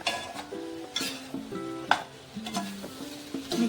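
A spoon stirs chili powder into a sizzling chicken curry in a metal pot, with repeated scraping strokes and ringing clinks in an uneven rhythm over a steady, close frying hiss.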